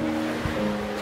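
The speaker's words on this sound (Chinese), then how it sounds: "我们到海边来玩" Waves at the beach wash in as a steady broadband surf, with some wind rumble and a low tonal hum running through, alone and no one talking.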